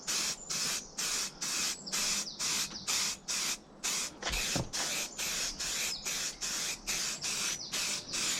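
Rhythmic bursts of an aerosol spray can coating a BMW E34 headlight surround, about sixteen short even hisses in steady succession, close and clear.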